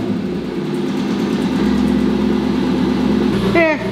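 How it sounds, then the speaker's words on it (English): A Chevrolet Camaro SS with factory exhaust idles after a cold start, a steady, close engine drone that ends in a short rising whine. "let's get a cold start"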